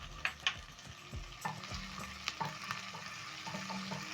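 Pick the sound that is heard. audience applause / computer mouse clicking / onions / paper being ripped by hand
onions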